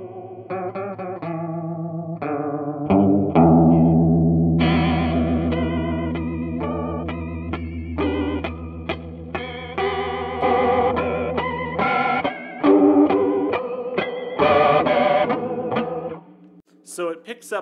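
Electric guitar played through an Ibanez Bi-Mode Chorus pedal on a dirtier setting, with no sparkle drive. Strummed chords and single notes carry a wavering, distorted chorus shimmer, loud and continuous.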